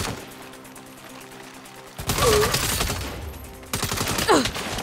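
Bursts of gunfire in the game Saints Row: a quieter patch first, then two loud stretches of rapid shots and impacts, with brief voice fragments mixed in.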